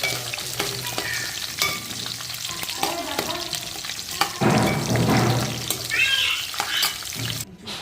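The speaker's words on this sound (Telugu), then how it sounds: "ఉల్లిపాయలు బాగానే ఎగినాయి కదండి." Small onions fry in a pan, a soft, continuous sizzle with occasional stirring scrapes, while a cat meows nearby in the background.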